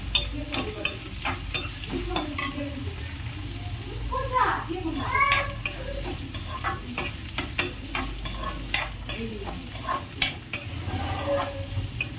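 Green chillies sizzling and frying in a pan, with steady crackle and occasional stirring clinks, while children and other voices chatter and play nearby in a busy home.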